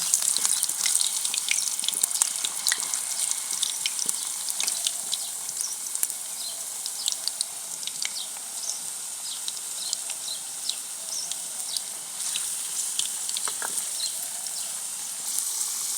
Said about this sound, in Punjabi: ਲਓ ਆਪਣੇ ਆਲੂ ਫਰਾਈ ਹੋ ਗਏ ਚੰਗੀ ਤਰ੍ਹਾਂ ਹੋ ਗਏ